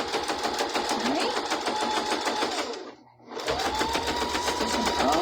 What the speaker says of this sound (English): Stitching all the way down this, getting to that little thick spot here.